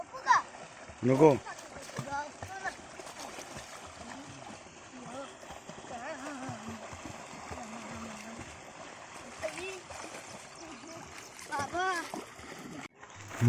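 A young boy bathes with his father in a village river, water splashing around them in bursts, loudest near the start and end, with running river flow and voices underneath throughout.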